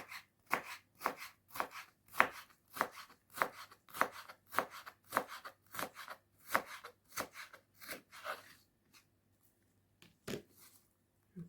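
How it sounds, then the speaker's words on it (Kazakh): Knife chopping carrot into small cubes on a board, a quick steady run of close, crisp cuts that slows to a few scattered strokes near the end. "Тура сәбіз қосап, бұны да кішкентай 4 бұрыш қылып турап аламыз."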